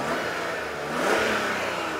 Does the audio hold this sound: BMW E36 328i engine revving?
yes